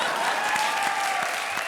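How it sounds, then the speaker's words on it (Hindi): Loud, sustained applause from a studio audience at a comedy show, a dense steady wash of clapping filling the whole stretch with no pauses. "जोरदार तालियां।"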